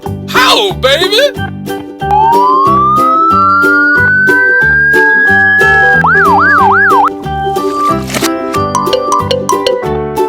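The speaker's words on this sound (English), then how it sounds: "Police car." A toy police car siren wails and warbles in bright electronic tones alongside tinkling jingle music, loud and close, with a short chirpy burst at the start.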